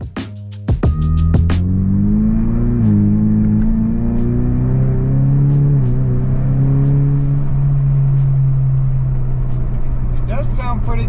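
A Ford EcoBoost car engine pulls steadily while driving, its smooth hum rising in pitch through the gears, sitting close and loud and continuous with no voices over it.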